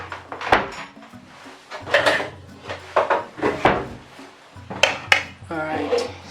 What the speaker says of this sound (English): let me get a bowl and a strainer